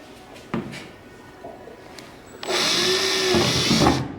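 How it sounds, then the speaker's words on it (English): A couple of sharp knocks and clatters, then a power drill whines loudly and steadily for about a second and a half up close, drilling into a truck topper, before stopping. "I almost hate drilling into this topper"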